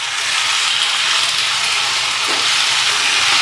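Cabbage cooks in a pan, giving a continuous loud hissing sizzle with no talking.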